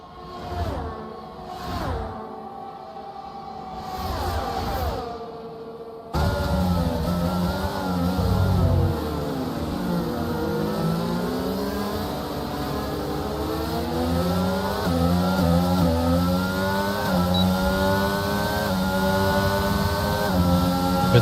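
Formula 1 cars from a racing video game, several running close together at the Abu Dhabi GP, with loud, high engine whines rising and falling as they shift gears. The sound holds steady after a brief opening section.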